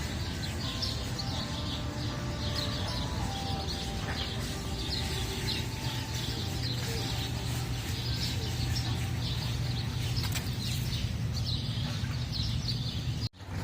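Birds chirping steadily in the background throughout, a busy layer of small calls over constant low rumbling ambience outdoors near a plant nursery in America, ending abruptly.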